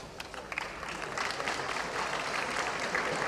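Sustained audience applause fills a commencement ceremony hall, a steady dense wash of many hands clapping that swells slightly and holds at an even level throughout.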